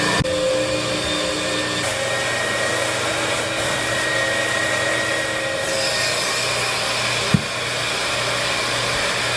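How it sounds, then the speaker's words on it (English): An ESteam Heatermate external carpet cleaning heater, heated to 200 degrees, runs with a steady, loud, broadband hum and drone. It holds constant throughout, with one brief click near the end and no voices. "Push the toggle switch on the ESteam external Heatermate to the on position."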